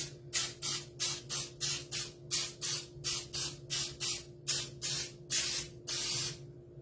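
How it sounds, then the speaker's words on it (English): A cooking spray can hisses in about fifteen short rapid bursts into muffin cups, close up, with a faint steady hum underneath. "I just go ahead and spray the cups just a little bit"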